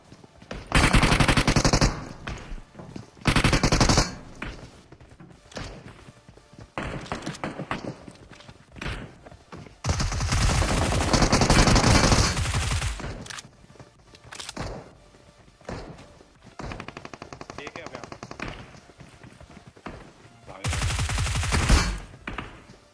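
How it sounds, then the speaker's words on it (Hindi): Bursts of automatic gunfire from a shooter video game, several loud, rapid volleys separated by quieter stretches with thuds and footsteps, with no speech. "भैया बॉट फायर दे रहा है, देख रहे हो एक ही हमसे बॉट फायर दे रहा है।"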